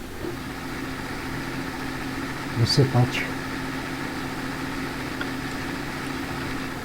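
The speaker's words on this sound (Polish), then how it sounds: "Przejdę na ciągnik wtedy i podjedziemy sobie tam" Tractor engine idling in Farming Simulator 19 on a soybean farming map, a steady low hum running throughout at moderate level beneath a man's speech, with a brief clunk near the middle.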